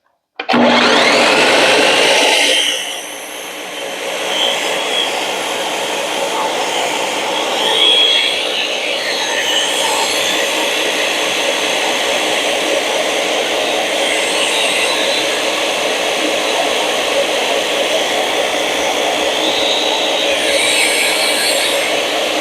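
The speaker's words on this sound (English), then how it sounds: "This is just a standard old Ninja food processor." A standard Ninja food processor whirs loudly and steadily while blending aquafaba hummus, starting with a harsh burst that settles into a constant, close motor drone with no talk over it.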